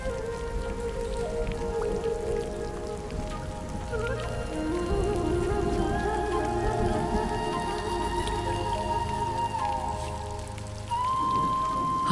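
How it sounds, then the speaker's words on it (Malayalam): Steady rain falls and patters on surfaces at night, a dense continuous hiss at moderate level that lasts throughout, with a faint tonal drone running beneath it. "ആദ്യ മഴ"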